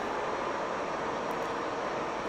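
A steady jet engine roar in the X-Plane 12 flight simulator game, continuous and even in level throughout, with no talking.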